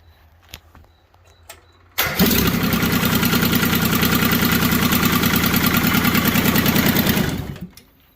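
A Kubota D600 three-cylinder diesel fitted into a John Deere 420 tractor cranks and fires after a few quiet knocks, then runs loud and steady with a rapid, even chug for about five seconds before shutting down and winding off.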